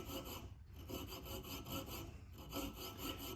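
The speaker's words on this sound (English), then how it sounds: "You don't have to press real hard with this little saw. Just drag it across gently and evenly." A small hand saw is drawn gently and evenly across knife liners, a faint, quiet rasping in steady back-and-forth strokes.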